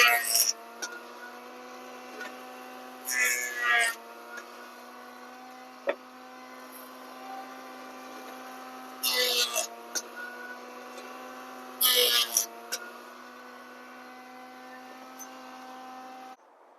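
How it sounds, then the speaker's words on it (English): A jointer cleans up the edges of a wooden two-handed mace: a steady motor hum runs throughout, broken by three short, harsher bursts of cutting spaced several seconds apart. "I'm going to use this joiner here just to clean up some of these edges."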